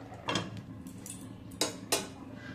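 A lid is set onto a cooking pot of simmering tomatoes, producing a few sharp metallic clinks and clatters close by, with no talking.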